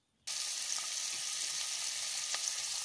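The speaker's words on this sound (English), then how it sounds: "I've just added my onions into the sufuria" Onions frying in oil in a sufuria, a steady loud sizzle that starts abruptly and continues evenly, with faint stirring clicks beneath it.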